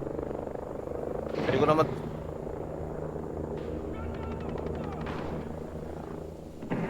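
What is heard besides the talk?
helicopters flying in the video game Ghost Recon Breakpoint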